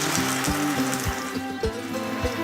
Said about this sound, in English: Now we are going to add the pressure cooked lentils